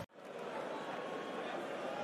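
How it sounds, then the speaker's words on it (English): Darts crowd applauding at the German Darts Grand Prix in Munich after a match-winning bullseye, a steady wash of clapping from a large arena audience that follows a sharp onset and holds at an even level. "The crowd applaud."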